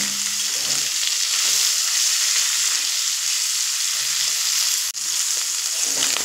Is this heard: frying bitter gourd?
yes